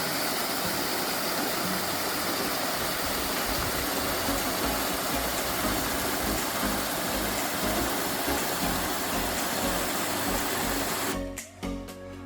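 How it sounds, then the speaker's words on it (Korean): A mountain valley stream at Mungyeong Saejae in autumn flows with a steady, close rushing of water over rocks, constant throughout before stopping abruptly near the end. "잠시 계곡 소리 들어보고 가겠습니다."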